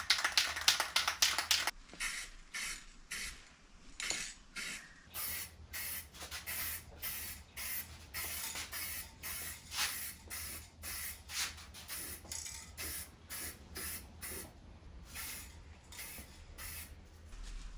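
Spray paint goes on in a second coat over a rust repair on a Ford F150, a long hiss at first and then many short, rhythmic spray bursts close to the listener.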